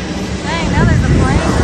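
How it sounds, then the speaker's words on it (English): An airplane passes over Key West, a broad rushing roar that swells toward the middle under people talking nearby. "now there's a plane."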